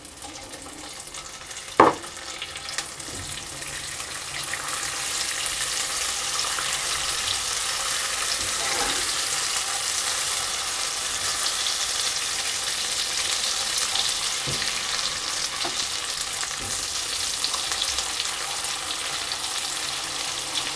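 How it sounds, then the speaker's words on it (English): Butter dropped into melted sugar in a pan gives a sharp tap, then a steady hissing sizzle carries on evenly for twenty seconds, close and moderately loud, with a few soft clinks and no talking. "And with the sugar melted, I'm going to put my butter in."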